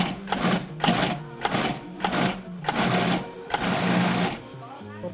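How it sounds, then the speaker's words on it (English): Roasted cauliflower is pulsed in a food processor in a run of short, loud mechanical bursts, about six in a steady rhythm, heard close up while a voice talks over them. "We're transferring our roasted cauliflower to the food processor, where we'll pulse until finely chopped."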